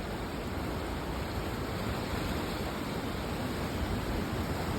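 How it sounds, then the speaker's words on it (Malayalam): A swollen river in Idukki rushes hard after heavy rain, a steady, dense roar of fast water that holds constant and loud throughout, with no voices. "നല്ല ശക്തമായിട്ടുള്ള ഒഴുക്കാണ്"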